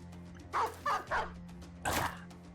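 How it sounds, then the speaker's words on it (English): A released war dog in the game Battle Brothers barks four times, three quick close barks followed by a louder one after a short pause, over a low background hum. "I release my dog."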